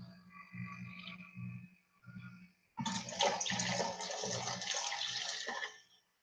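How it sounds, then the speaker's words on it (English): Water being dumped out of a home aquarium: a few low gurgling croaks at first, then a loud splashing pour that runs steadily for about three seconds before cutting off. "Dump some of this water out."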